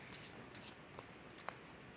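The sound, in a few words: shuffling tarot cards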